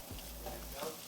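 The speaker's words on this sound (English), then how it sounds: "I hear some sizzles back there again" Food sizzling in a pan while seafood chowder cooks, a steady crackling hiss with soft low clunks, moderately loud and close.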